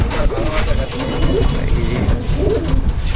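Several pigeons coo in low, rolling bursts, close by, with a steady low engine rumble underneath and faint voices in the background.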